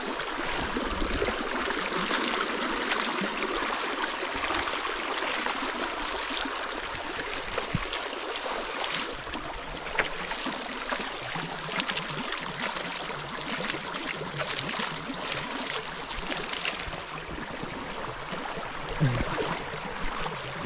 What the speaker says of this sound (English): I decided to walk inside water